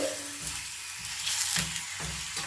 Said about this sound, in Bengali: দুদিকে আমার 1 চামচ করে তেল দিয়ে কিন্তু ভাজতে লাগছে